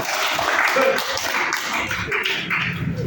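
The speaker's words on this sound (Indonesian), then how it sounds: "berikan tepuk tangan semua" A classroom of students claps their hands together, a dense, even patter of many claps lasting a few seconds at moderate loudness, with no voices standing out.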